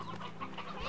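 Chickens cluck in Slime Rancher, a farming game, in a short run of soft, close clucks over a steady game background.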